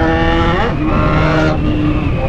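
A car fitted with a loud 32.50 exhaust revs hard on a city street, its engine droning up and down in pitch close by, with no talking over it.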